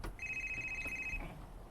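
A mobile phone ringtone rings as a steady electronic tone for about a second, fairly quiet over background hiss, with no speech.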